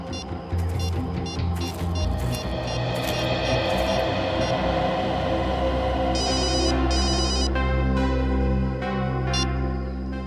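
A telephone rings in an episode of the Indian TV series CID, with repeated electronic bursts over a loud, continuous music-and-engine bed, the rings recurring in clusters through the latter half.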